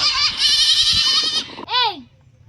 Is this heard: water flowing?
no